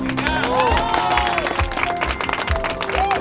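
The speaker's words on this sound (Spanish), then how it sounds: "Un aplauso, por favor." Applause and cheering from a crowd gathered at the start of an UltraMX515 motocross race, clapping mixed with shouts, whistles and loud background chatter over a low rumble.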